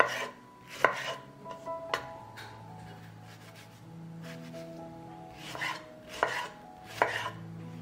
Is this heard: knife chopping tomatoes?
yes